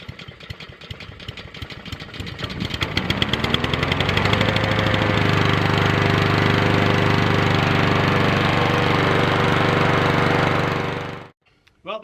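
A small lawn mower engine sputters, catches and roars to a steady loud run for several seconds, then cuts off abruptly near the end.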